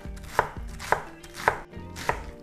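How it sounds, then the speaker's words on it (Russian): A knife shreds fresh white cabbage on a board in four evenly spaced, crisp chopping strokes, close up and distinct with a soft crunch between each cut. "Беру капусту, свежую белокочанную. Капусточку нашинкуем."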